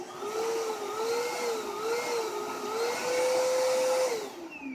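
A Kenmore 600 Series Pop-N-Go canister vacuum runs at close range with a steady motor whine that wavers slightly, then rises in pitch and holds before tapering near the end.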